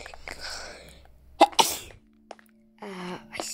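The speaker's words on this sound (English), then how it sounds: "I sneezed." A single sharp human sneeze bursts out mid-clip, loud and close, between quieter background game sounds and murmurs during a Minecraft horror-game session.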